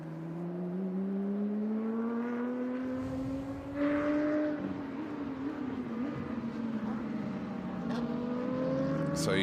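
Lotus race cars in a Lotus Cup Europe race at the Nürburgring, engines droning and rising in pitch through the final corner, loud and close, with faint commentary underneath.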